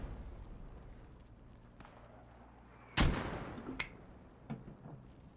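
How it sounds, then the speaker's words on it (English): Mortar barrage in a multiplayer war game: a heavy blast lands mid-clip with a long decaying rumble, followed by a sharper second impact and a smaller thud, over a low background drone. "we're seeing a mortar barrage started on the hill 121, very accurate"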